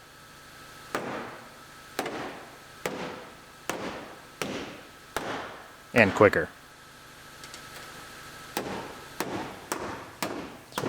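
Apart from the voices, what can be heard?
hammer smashing welded van body panel loose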